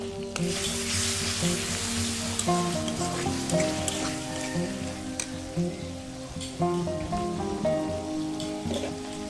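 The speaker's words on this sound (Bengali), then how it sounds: "দিয়ে এবার এটা খুব ভালো করে আমি কষিয়ে নিব" Garlic paste fries in hot oil in a pan for a small puti fish curry with tomato, a loud continuous close sizzle with periodic scraping stirs and crackles, no voices present.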